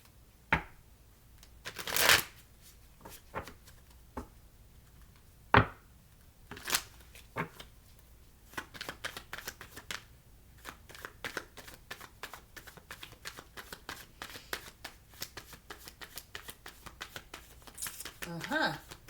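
Tarot cards shuffled by hand during a reading, riffling in repeated crisp bursts and soft flutters that quicken toward the end, close and fairly quiet, with occasional speech between the shuffles.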